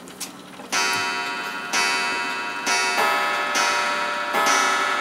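An antique Seth Thomas clock chimes loudly, several bell-like strikes about a second apart, each ringing on and overlapping the next, close by.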